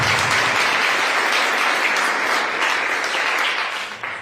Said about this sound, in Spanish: Que lo den un aplauso al Rey, hermano